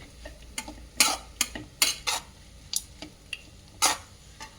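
Coriander leaves being stirred into avalakki (flattened rice) in a pan, giving a run of sharp, irregular scrapes and clinks of a spoon against metal over a faint sizzle, close and moderately loud.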